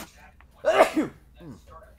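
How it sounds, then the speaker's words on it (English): One loud, explosive sneeze rings out close up, then a smaller trailing vocal sound afterward, otherwise quiet. "When you sneeze, dude, you sneeze, I'd argue, even worse than Lars."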